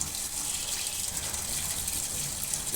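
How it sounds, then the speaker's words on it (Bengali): Water gushing and splashing steadily as it is thrown out of a water tank being cleaned, a continuous rushing pour nearby with no clear voices. "ও নাড়াচাড়া দিয়ে ফেলছে জল, ফেলতে লাগুক।"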